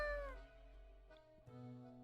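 A cat in the video game Death and Taxes meows once in a clear, drawn-out call that fades over about half a second, then quieter background tones follow, with no talking.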